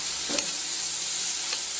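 Pork and chili paste go into a pot of boiling water for a Thai tamarind leaf salad, giving a steady bubbling hiss with a brief splash and stir near the start and another faint stir later.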